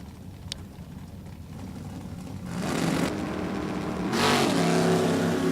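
A 1969 Oldsmobile Cutlass race car at a drag strip roars in the distance, its engine noise swelling in two stages as it accelerates away, heard over an outdoor background.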